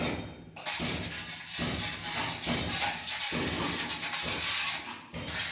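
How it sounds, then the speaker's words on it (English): A hard, coarse scrub brush scrapes out grout between tiles in steady back-and-forth strokes, close and fairly loud, with a few short pauses between bursts. "I'm here scraping them out with a scrub brush, a hard coarse scrub brush"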